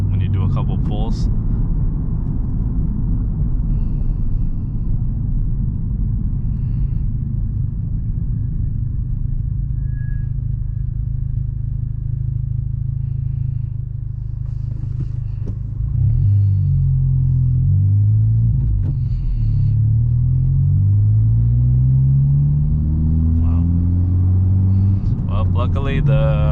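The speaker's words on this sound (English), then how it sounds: "I'm gonna show you guys pretty much a pull of how this car sounds like when you accelerate" A Honda Civic Type-R's engine with an Invidia R400 exhaust rumbles low and steady from inside the cabin, then revs climb in rising surges as it accelerates through the gears.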